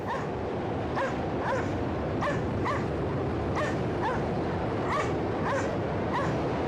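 Dogs bark in a steady, repeated series of sharp yips, roughly two to three per second, over a constant loud background rumble.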